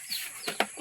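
A chicken gives a few short, soft clucks close by, two or three quick calls within under a second against a quiet background.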